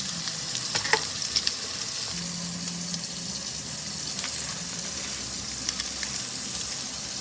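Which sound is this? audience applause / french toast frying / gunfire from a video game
french toast frying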